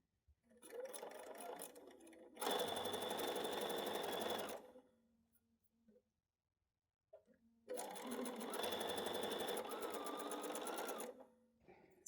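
A sewing machine stitches a fabric seam on a Riley Blake summer door banner in two loud, steady bursts of running, each a couple of seconds or more, with quieter handling and pauses between them.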